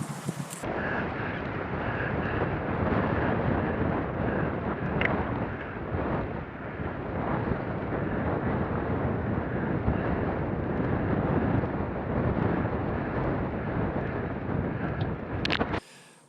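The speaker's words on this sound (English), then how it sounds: "Yes, it did turn out to be a very windy day." Strong wind buffets the microphone in a continuous loud roar along a road in California's Central Valley near Davis during a 600 km brevet bicycle ride, with no voices.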